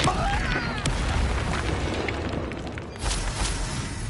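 A fire spell cast in the Hogwarts Legacy video game, a loud roaring burst with boomy, explosive rumble sustained across the clip, flaring up again near the end over dense game effects.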